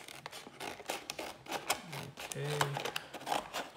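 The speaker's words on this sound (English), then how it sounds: "So I got a pair of scissors here. I'm gonna start cutting into it." Scissors snip and scrape into the tight plastic packaging of a TI-84 Plus CE graphing calculator: a quick run of close, sharp clicks and crunches, with a short spoken word partway through.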